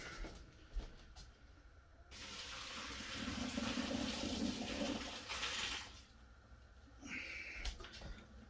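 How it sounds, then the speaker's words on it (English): Cooked linguine pasta water pours from a pot into a kitchen sink, a sustained rushing drain lasting several seconds with quieter running water before and after, no talking. "And I'm going to drain this pasta."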